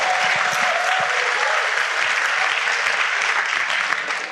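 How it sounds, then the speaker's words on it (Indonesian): An audience bursts into sustained, dense applause at a business seminar, loud and steady for several seconds before tapering off slightly at the end. "Luar biasa Bapak Ibu, aplaus dulu."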